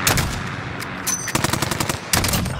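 Rapid bursts of gunfire crackle loud and close in a shooter game, a clustered volley opening, a brief lull, then another fast string of shots and a final burst, with no talking.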